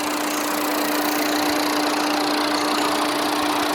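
A 2006 Tata Indigo CS diesel car engine idles smoothly, giving a steady, close, loud rumble with an even mechanical hum and light diesel clatter, running continuously without talk.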